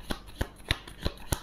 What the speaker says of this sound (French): La carte des plaisirs que je vais retourner.